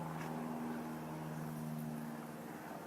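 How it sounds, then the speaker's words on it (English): An airplane passes overhead, a faint, steady distant drone with a droning hum that holds evenly for a few seconds outdoors, with no one speaking. "Got a plane flying overhead."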